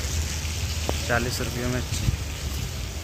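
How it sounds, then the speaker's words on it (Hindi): Heavy rain falls steadily as a broad, constant hiss, with a person speaking briefly over it. "और बारिश अभी तेज़ी पड़ने लगा, जैसे ही निकले वैसे ही बारिश आ गई"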